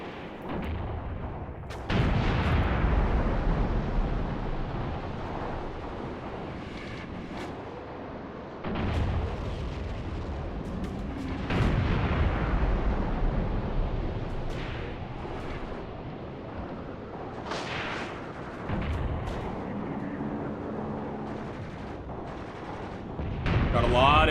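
Anti-tank weapons, gunfire and explosions in a war video game set during the 1980 Battle of Khorramshahr: repeated heavy booms and rattling bursts rise and fade over a rumbling backdrop, with someone speaking at times.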